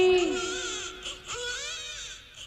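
A voice imitates a baby's wailing cry, a high wavering sob that trails off into whimpers, alone and fairly close.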